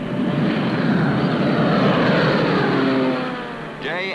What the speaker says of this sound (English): Day after day, the Allied reconnaissance planes scoured the European continent.